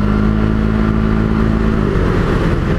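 A Can-Am Ryker motorcycle fitted with a Pedal Commander throttle controller, its engine revving steadily and loudly with a droning tone that shifts slightly near the end, heard alone without speech.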